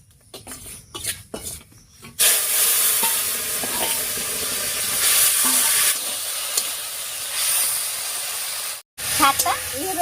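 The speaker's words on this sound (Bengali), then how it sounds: "ফোড়নটা ভাজা হয়ে গেছে, এবার নামিয়ে রাখা শাকটা দেব।" Chopped pumpkin greens drop into hot oil tempered with black cumin and dried red chillies, setting off a sudden loud, steady sizzle and hiss that holds close and continuous after a few light clatters.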